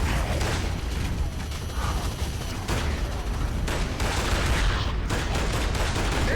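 Continuous blind-fired gunfire in Gears of War: Judgment, a dense rattle of rapid shots that fills the whole stretch loudly, with a brief voice in the mix.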